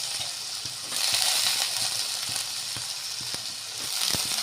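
Chopped potato pieces dropped into a hot frying pan with tomato for a spicy broccoli dish, followed by a steady loud sizzle with light clinks and scrapes throughout.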